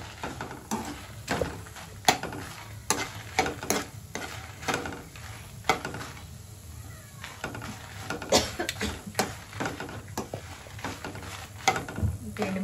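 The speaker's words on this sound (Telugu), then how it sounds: "ఎండుమిర్చి కూడా ఫ్రై అవుతుంది." Dried red chilies frying in a pan with ginger for a ginger chutney, a steady light sizzle under a run of sharp clinks and scrapes from stirring, no talk.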